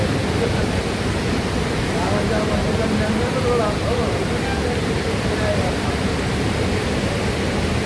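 Water waves crash in a steady, dense roar of surf that fills the whole stretch with continuous broadband noise and no distinct breaks.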